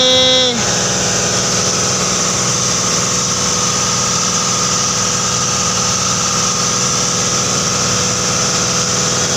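Boat engine running at full power on the water: a loud, constant droning roar with a steady pitch that settles in within the first second and holds unbroken to the end, with no talking.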